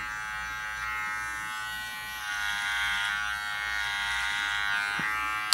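An electric hair clipper hums in a steady, close, loud buzz as it cuts hair during a barbering lesson, its pitch shifting slightly as it moves, with a brief clack near the end.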